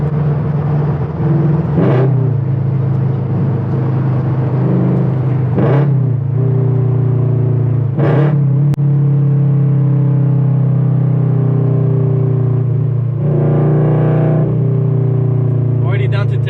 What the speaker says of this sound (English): we're gonna get a couple downshifts here as well so we can see how they sound